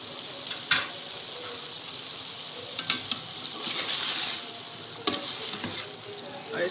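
Potatoes go into minced meat (keema) cooking in a pan with water, giving a continuous sizzling, bubbling hiss broken by a few clattering stirs and knocks, close and moderately loud.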